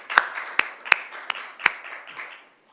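A few scattered hand claps from a small audience welcoming a new university dean at a weekly briefing, about five distinct sharp claps spaced unevenly, moderately close, with faint room tail and no talk.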